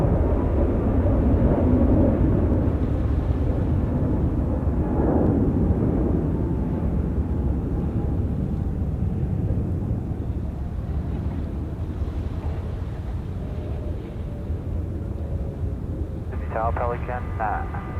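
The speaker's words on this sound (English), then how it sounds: "Jetstar 746 service coming in from Launceston there in Tasmania, touching down runway 34 left." A Jetstar airliner on a service from Launceston, Tasmania, touching down on runway 34 left at Sydney Airport: a steady, broad jet roar buffeted by wind noise, with a faint whining tone and a brief rattle near the end.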